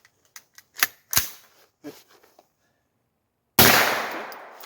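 Kneeling on a shooting range, a shooter changes the magazine on a 9mm pistol. Light metallic clicks and rattles come close by, then a sudden loud, sharp blast fades away slowly.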